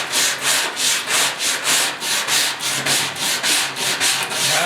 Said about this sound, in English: that little sander that I built just fits perfectly in here